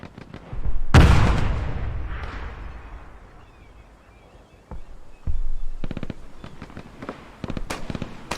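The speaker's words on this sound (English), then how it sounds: "Stop shooting." Gunfire and explosions in the WWII video game Hell Let Loose: a heavy blast booms early and rumbles away, then sharp shots crack after a lull, ending in dense rapid bursts of firing.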